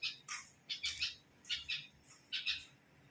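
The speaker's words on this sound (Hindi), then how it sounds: "ये बच्चे चिल्ला रहे हैं इसके, ये चुपचाप बैठी हुई है, बच्चे अंदर से चिल्ला रहे हैं, खाना मांग रहे हैं चिड़िया से।" Baby birds calling for food from inside a nest while the parent sits quiet nearby, a series of shrill, high squawking chirps in short bursts, fairly close and alone without talk.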